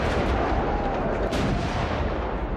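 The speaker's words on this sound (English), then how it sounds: "Eventually, Ibrahim Pasha manages to breach the northern walls with cannon fire." Cannon fire breaching the northern fortress walls during a siege: a dense, rumbling barrage of booms and blasts filling the short stretch at steady loudness.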